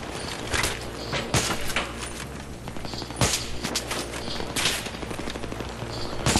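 Battlefield 3 gunfire rattles in bursts of automatic shots mixed with louder single reports and distant crackle, with dense battle noise throughout.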